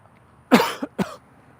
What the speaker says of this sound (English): I truly apologize for the coughing